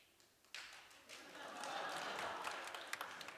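Audience applause at a live talk concert, a burst of many hands clapping that starts abruptly and swells into steady, moderately loud applause filling the hall.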